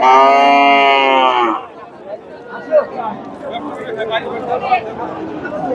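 A cow lets out a loud, drawn-out moo at the start at a cattle market in Chandaikona, Bangladesh, then a crowd of voices chatters in the background.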